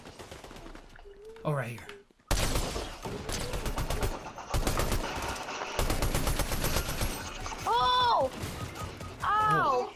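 Rapid bursts of gunfire in the Fortnite battle royale game, loud and dense through most of the stretch with brief pauses, while players talk and shout excitedly over it.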